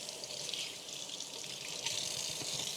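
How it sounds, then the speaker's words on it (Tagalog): Tap water runs steadily into a sink while lettuce is washed, a continuous close hiss and splash with slight surges and no talking. "Hugasan ko na yung lettuce niya."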